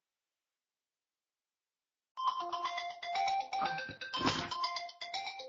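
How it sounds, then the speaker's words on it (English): A mobile phone rings at a home desk, a melodic tonal ringtone starting abruptly after silence and repeating for a few seconds, fairly loud and close, with a brief spoken interjection. "Sorry, background noise. That was my phone."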